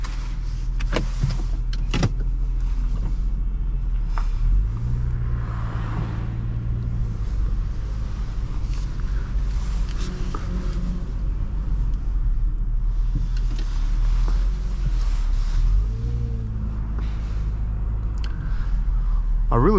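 A 2011 Nissan Maxima SV with a CVT on a test drive: steady loud cabin drone of engine and road rumble, with a smooth engine note rising and falling without shift steps, plus a few clicks and knocks in the cabin.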